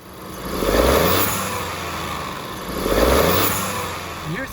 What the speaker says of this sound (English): It makes some nice turbo sounds and there's a nice thump off it when you drive it.